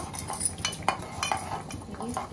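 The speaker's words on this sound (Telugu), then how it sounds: "రెండు బాగా మిక్స్ చేసుకోవాలి." A spoon stirs and clinks against a bowl while papaya juice is mixed into a partly melted homemade soap base, giving a string of irregular close taps and scrapes with no voices.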